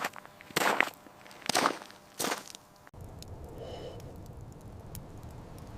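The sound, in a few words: heavy boots crunching on gravel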